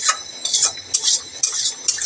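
Meat and khichuri being stirred in a kadai, a spoon scraping the pot in quick repeated strokes, loud and close, with a faint sizzle beneath and no talking.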